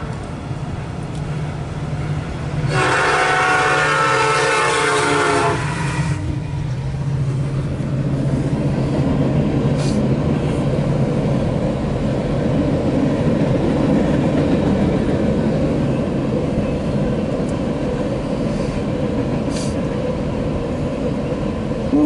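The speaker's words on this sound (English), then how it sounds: "I recognize that horn." A loud CSX freight train horn blasts for a few seconds, then the steady rumble and rattle of an empty pipe train led by SD70M-2 and SD75I locomotives continues close by.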